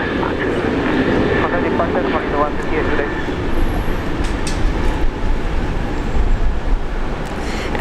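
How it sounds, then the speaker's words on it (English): Jetstar airliner taking off at Brisbane International Airport, a broad sustained jet roar that stays loud and rumbling throughout, heard from a moderate distance with steady intensity. "Another Jetstar flight taking off."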